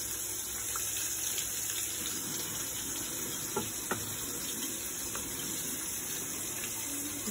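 Water runs steadily from a tap in a continuous close hiss, with a few faint clicks and knocks scattered over the flow.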